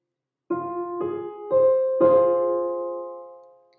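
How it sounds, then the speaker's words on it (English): Two triads sound on a tonal instrument, first as three separate notes struck one after another, then as a single chord held together and left ringing to fade, clean and close with no talking. "2 triads. They were played first melodically and then harmonically."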